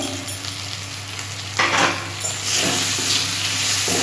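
Turmeric and red chili powder sautéing in a hot pan with cumin and coriander powder: a loud, close, steady sizzle swells with bursts of stirring, and no one speaks.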